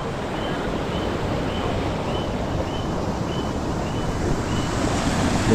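Waves and rushing water roar steadily at the shore, loud and continuous, with wind buffeting the microphone throughout.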